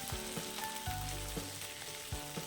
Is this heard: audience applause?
no